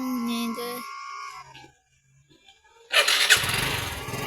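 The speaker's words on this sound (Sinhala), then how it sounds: "ගණන් ගන්න බයික් එක ස්ටාර්ට් කරා" A motorbike engine starts up abruptly after a stretch of quiet and keeps running loud and close, preceded by brief unrelated sounds.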